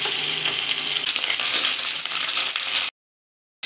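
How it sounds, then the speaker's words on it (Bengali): Fish pieces, rubbed with turmeric and salt, sizzle loudly in hot oil in a wok, a dense continuous crackle that runs steadily, then cuts out briefly near the end before resuming. "তেল গরম হয়ে গেছে, এক এক করে মাছগুলো ভেজে নেব।"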